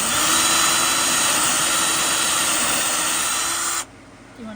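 A power drill whines steadily for several seconds at close range, then cuts off abruptly, leaving a quieter background.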